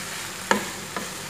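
Chicken masala sautéing in oil for a coconut-milk chicken roast: two sharp scrapes of a spoon against the pan over a faint, steady sizzle.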